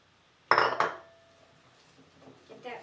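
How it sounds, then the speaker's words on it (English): Brown sugar goes into a mixing bowl for cookie dough with two sharp clinks of dish and utensil close by, then a faint scraping rustle that fades. "So let's put this brown sugar in."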